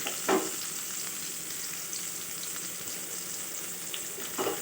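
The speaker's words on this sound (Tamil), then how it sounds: "இப்போ நம்ம மாங்காவும் சேர்த்து நல்லா வதங்கி வரட்டும்" Green mango pieces sauté in a pan for a Tamil fish kozhukurai curry, giving a soft, steady sizzle broken by a couple of faint stirring clacks.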